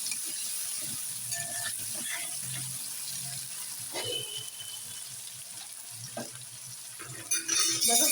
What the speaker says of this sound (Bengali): এটা দিয়ে আমি হালকা করে আর একটু ভেজে নেবো